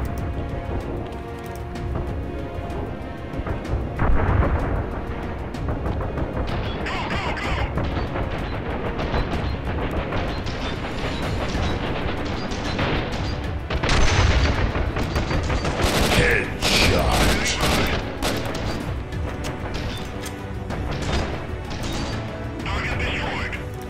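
Heavy gunfire from a military video game, with repeated loud shotgun-like blasts and bursts of rifle fire crackling over continuous battle noise, while someone talks over the action throughout.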